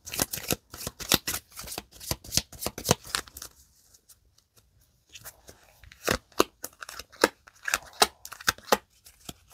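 Lenormand and tarot cards shuffled by hand in quick, close, crisp riffling bursts, with a short quiet pause midway before the shuffling picks up again; no talking.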